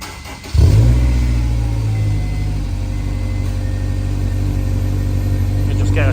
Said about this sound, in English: You just get a cold start sound.